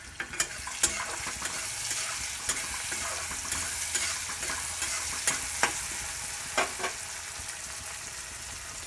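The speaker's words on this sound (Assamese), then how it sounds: "অকণমান লাৰি দি দিওঁ।" Onions, tomatoes and dried chili sizzle steadily in a pan while a utensil stirs and scrapes, with several sharp knocks scattered through the continuous frying hiss; no one talks.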